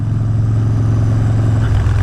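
A motorcycle engine runs steadily with a low, even drone while riding out on an open road, loud and close, with no talking.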